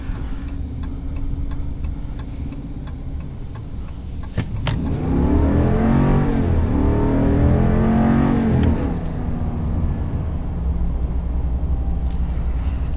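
A 2020 Ram 2500HD Limited with a 6.4-liter V8 idles with a low rumble, then swells into a deep rev that rises and falls in the middle before settling back to idle.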